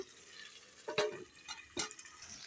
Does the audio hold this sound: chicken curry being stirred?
yes